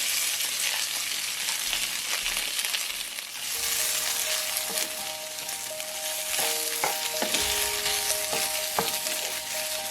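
Shrimp stir-fried in a hot skillet with garlic and shallots gives a loud, steady close-up sizzle, with scattered clinks and scrapes of a utensil tossing the pan, no talking.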